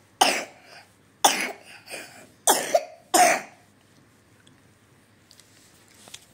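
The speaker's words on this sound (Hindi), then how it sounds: "ऐसे कफ वाला खांसी बहुत हो रही है" Four wet, phlegmy coughs from a child, spaced about a second apart, close and loud, followed by quiet with faint breathing.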